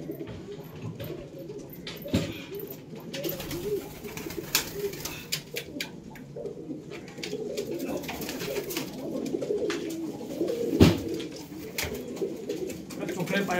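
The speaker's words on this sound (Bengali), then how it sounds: "এই কোহিনূর পায়রা দেখুন, একটা ধাড়ি জোড়া আছে" A breeding pair of Kohinoor pigeons kept at home coos in soft, repeated, low calls, close and moderately quiet, with occasional faint knocks and rustles in the background.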